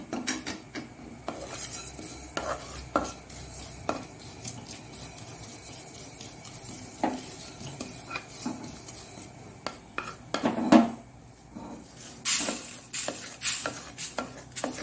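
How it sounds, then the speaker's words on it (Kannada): Irregular sharp pops and crackles of sesame seeds in a hot pan, mixed with the clink and scrape of stirring, close by; no talking. "ಎಳ್ಳು ನೋಡಿ ಹೊಡಿತಾ ಬಂತು"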